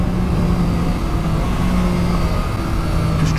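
A 2020 Triumph Street Triple RS motorcycle engine pulls hard under acceleration, a loud, steady, close mid-pitched drone with no talk over it.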